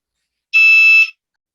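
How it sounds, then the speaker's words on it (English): A single loud electronic alarm beep, steady-pitched and close, lasts about half a second and then cuts off into silence. "Somebody's alarm or something."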